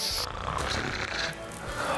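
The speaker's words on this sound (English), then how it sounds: "He's snoring." A man snores, a brief rough rasping breath that sounds close and fills about two seconds.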